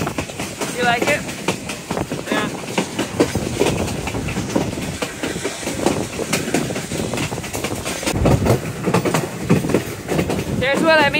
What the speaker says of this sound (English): This train is run by a steam engine